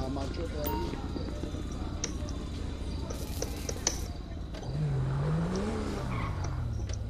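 A car in Grand Theft Auto V driving with engine drone, then a rising tire squeal and skid toward the end, under steady game noise with people talking over it.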